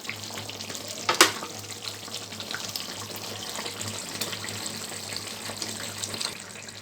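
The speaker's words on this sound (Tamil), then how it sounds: "பாருங்கள் நல்லா கொதிச்சு நல்லா தளன்னு கொதிச்சு வருது" Drumstick and cumin masala gravy boils in a pan with a steady bubbling sizzle at moderate level, with a sharp clatter near the start.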